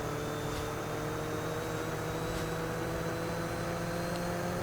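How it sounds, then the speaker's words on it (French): A lawn mower engine drones in a Roblox mowing game, a steady, continuous motor hum with constant tonal whine and no change in loudness, heard alone and fairly faint throughout. "C'est pas une Ford, c'est une tondeuse."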